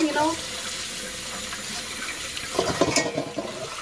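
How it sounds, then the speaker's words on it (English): Tap water runs steadily into a kitchen sink as sausage casings for Lao sausage are rinsed, a continuous close wash with splashy bursts near the end. "after I rinse it real good, then I let it set like this until all the water out"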